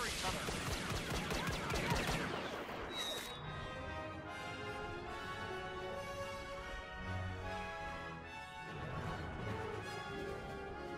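Blaster gunfire in a Star Wars video game battle, a dense burst of rapid shots at the start that thins into scattered fire under music and in-game voices.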